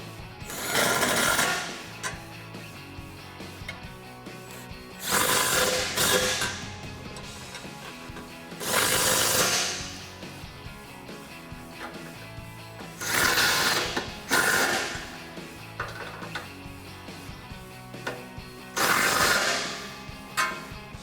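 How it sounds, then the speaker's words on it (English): An 18mm crescent wrench and socket tighten the bolts of a RedRock 4x4 Attack Stubby winch front bumper on a Jeep Gladiator JT. Loud bursts of rapid ratcheting clicks come in five spaced runs of one to two seconds, close up, with no talk. "go ahead and grab an 18mm crescent wrench and an 18mm socket, and we'll tighten them down"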